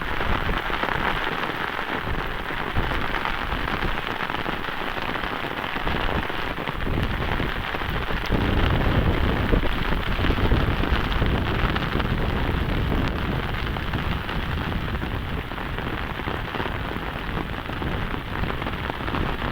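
Sudden heavy rain pours down outdoors, a dense, loud, unbroken hiss of water hitting close surfaces that lasts the whole stretch without easing.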